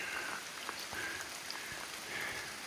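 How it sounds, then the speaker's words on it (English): Light rain falling in a misty river valley on a bushwalking track: a soft, constant hiss of drops with occasional faint patters, steady and fairly quiet. "if you can hear me over the rain"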